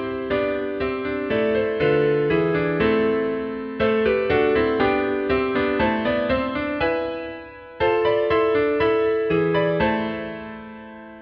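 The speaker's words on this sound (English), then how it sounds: "what you just heard is what's known as a chorale" A four-part Bach-style chorale generated by BachBot plays with soprano, alto, tenor and bass lines moving together in steady, sustained block chords, loud and clear with brief pauses at phrase endings.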